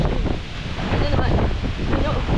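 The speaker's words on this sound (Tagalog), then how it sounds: "Guys, hangin! Grabe na!" Strong typhoon wind gusts roar and buffet the microphone nonstop, a loud rushing blast with a surf-like churn through the whole clip.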